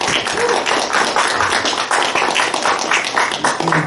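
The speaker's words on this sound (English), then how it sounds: "Give these girls a round of applause to get started." Audience clapping at a women's panel event, a loose, uneven stream of claps and taps at close range, with some voices mixed in.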